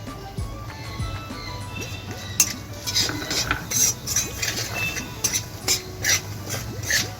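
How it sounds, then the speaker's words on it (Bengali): Ground cumin, coriander and Kashmiri chili powder frying in a little oil in a pan: a soft continuous sizzle with scraping stirs and small clinks of a spoon against the pan, close and moderately quiet. "4 সেকেন্ডের মতন আমি এই মশলাগুলোকে একটু তেলের সাথে ভেজে নেব"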